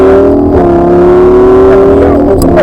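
A Lamborghini Huracan Spyder engine accelerates hard on a race track, a loud, continuous, rising roar heard close from inside the car, its pitch shifting slightly as the power comes on.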